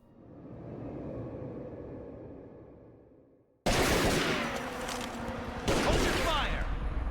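Gunfire in the video game Tomb Raider Legend: a rumbling stretch of distant shooting gives way to dense, loud bursts of rapid fire that keep going, with a second sharp volley near the end.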